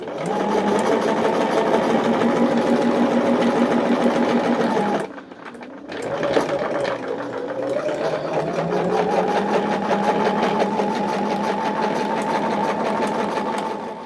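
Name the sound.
sewing machine stitching fabric with light-colored thread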